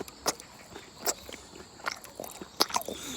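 Crispy pajeon, a Korean green onion pancake, is bitten and chewed up close, giving a few sharp crunchy snaps spaced irregularly over a quiet background at an outdoor university festival.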